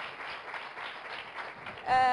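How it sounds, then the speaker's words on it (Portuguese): Studio audience on a Portuguese morning talk show clapping for the guests, a brief, even patter of hands that is cut off by a sharp tonal sound at the very end. "um forte aplauso para os nossos convidados"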